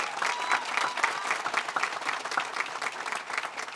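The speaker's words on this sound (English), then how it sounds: "Let's give a huge round of applause to Senator Andrew Gonardis" Audience at a bill signing event applauding, dense steady clapping from a crowd sustained for several seconds with no one speaking.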